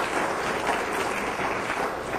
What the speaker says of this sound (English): we'd give him a round of applause for having this debate for us